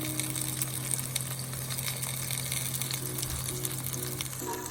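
Tomatoes braising on low heat in a pan, a steady soft sizzle with fine crackling spatters, moderately near and continuous, over a faint constant hum.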